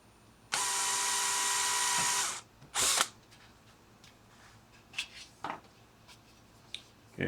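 A handheld power drill boring a hole through a solar panel, heard as one loud, close whine lasting about two seconds, then a short second burst and scattered clicks and handling knocks.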